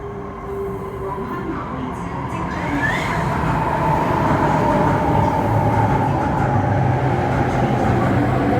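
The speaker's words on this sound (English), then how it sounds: "we're lucky we can see an Airport Express train" An Airport Express train rumbles past on the bypass tracks beside Lai King Station, a steady, building roar that stays loud and continuous throughout.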